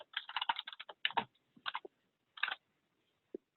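Close, crisp clicking of fingers on a computer keyboard, typed in quick bursts separated by short pauses, with a few isolated keystrokes trailing off at the end.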